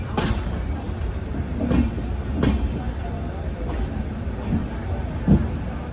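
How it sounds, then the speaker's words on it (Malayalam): A train hauled by an electric locomotive pulling into Malda Town station in West Bengal, a steady low rumble with periodic clicks of wheels over rail joints, heard from inside the carriage. "ട്രെയിൻ ഇതാ വെസ്റ്റ് ബംഗാളിലെ മാൾഡ ടൗൺ റെയിൽവേ സ്റ്റേഷനിലേക്ക് എത്തിക്കൊണ്ടിരിക്കുകയാണ്"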